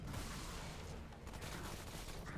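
A hard co-op boss fight in the shooter Remnant fills with continuous layered gunfire, a thick, unbroken wash of shots at modest level with no speech.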